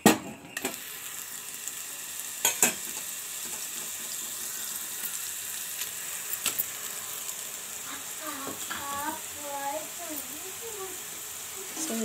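Ground coconut mixture sizzles in hot ghee in a pan, a steady broadband frying hiss with a few sharp clinks of a spoon, while someone talks over it.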